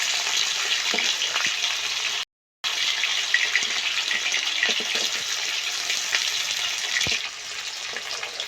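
A 1.8 kg pomfret fries in hot oil and is flipped, with a steady, loud sizzling hiss that cuts out briefly once, with occasional crackles and no talking.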